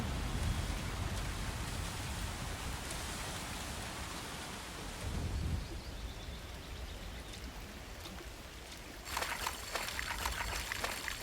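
Steady heavy rain pours over the lake during a storm in the farming game Coral Island, a dense continuous hiss that swells briefly midway and brightens with extra splashy detail near the end.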